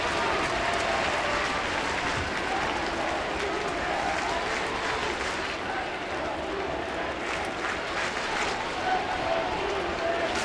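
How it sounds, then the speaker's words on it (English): A baseball stadium crowd stands and cheers in the bottom of the ninth inning at an Oakland at Toronto game, a sustained loud roar and clapping under a broadcaster's voice. "Crowd on their feet."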